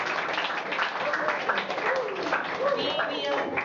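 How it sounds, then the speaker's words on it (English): Students and guests at a school student council induction clap their hands in a steady, moderately loud round of applause, with voices mixed in among the clapping. "Clap your hands again"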